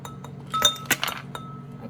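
Ice cubes clink into a glass while dalgona coffee is prepared, a few bright separate clinks over about two seconds, close and moderately loud, with no talk.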